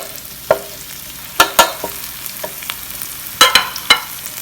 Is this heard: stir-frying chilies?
yes